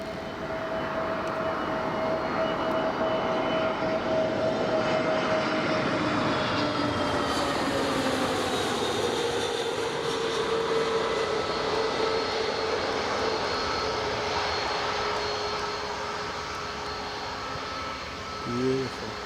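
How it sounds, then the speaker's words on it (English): An EasyJet Airbus A320neo jet comes in to land on runway 25 at Newcastle Airport. Its engine roar holds steady and loud, with whining tones that slowly drop in pitch as it passes, then fade near the end. "EasyJet A320neo is just about to come in now from Bristol"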